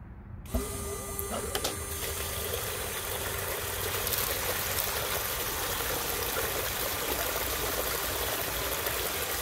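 A recirculating gold sluice switches on after a brief silence, then a steady pump hum and continuous rushing water run on evenly, close and moderately loud.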